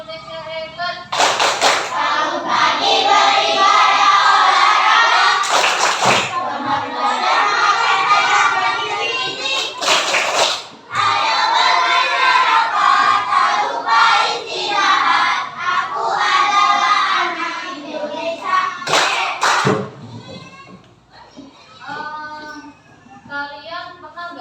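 A classroom of fifth-grade schoolchildren in Indonesia chant together and clap in rhythm, loud and close, with sharp clap bursts punctuating the group chant and a teacher's voice near the end.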